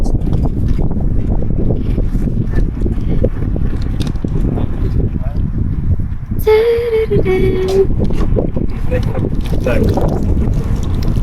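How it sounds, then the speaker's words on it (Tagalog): Strong wind by a lake in the Netherlands buffets the microphone in a steady low roar, with people talking faintly underneath and a brief higher whine partway through. "Ay, ang hangin."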